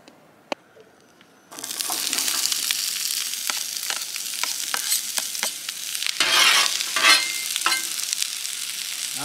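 Hibachi-style food fries on a camping griddle, a sharp spatula tap or two giving way to loud, sustained sizzling with repeated scraping and flipping strokes close by.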